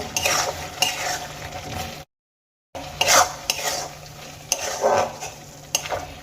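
Chicken for Bengali-style chicken bhorta is stirred and sautéed in a pan, with repeated loud scrapes and clinks of the utensil against the metal and a steady sizzle underneath, broken by a short silent gap.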